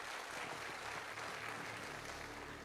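Dense, steady audience clapping from a crowd at a gathering, continuous and evenly loud for the whole stretch with no pauses.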